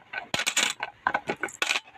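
A small stash of saved coins spills out, making a rapid clatter of bright metallic clinks and jingles, close and loud, with no talk.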